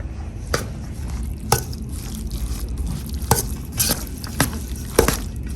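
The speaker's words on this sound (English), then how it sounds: "Then I start mixing it." Stuffed zucchini filling being stirred and mixed in a bowl, close up, with soft wet squishing and periodic clacks of the utensil against the bowl.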